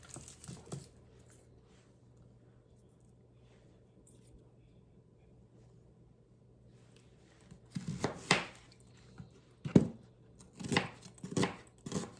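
A sharp knife chops an onion on a board, with quiet faint cutting early on, then louder irregular chopping strokes in clusters toward the end.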